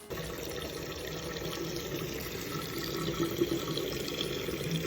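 Tap water runs steadily into a sink to soak a Bebop toy figure, a continuous close hiss and splash that swells slightly toward the end, with no one talking.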